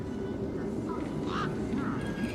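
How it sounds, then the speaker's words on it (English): Tough desert birds in the video game Beyond a Steel Sky give a few short, nasal, quacking squawks at irregular intervals over a steady ambient game background. "These were tough desert birds."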